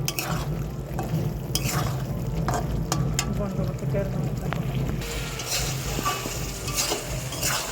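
Fried potatoes go into a hot pan of Bengali fish kaliya with a sizzle. Spoon scrapes and clinks ring out over a steady fry, and a voice talks underneath.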